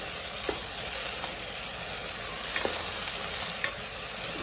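Egusi stew being stirred after powdered crayfish goes in, with soft scraping and a light steady sizzle from the pot, plus a few faint clicks of the spoon against the side.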